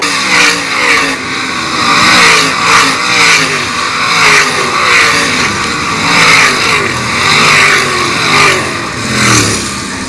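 A pack of 305 sprint cars races at Attica Raceway Park, engines roaring loud and continuous with rising and falling revs as the cars pass close by, no voices over the noise.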